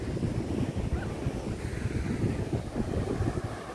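Waves and wind at Chethi beach in Cherthala, Kerala: steady, loud roar of surf mixed with gusty wind buffeting the microphone, continuous throughout with no voices.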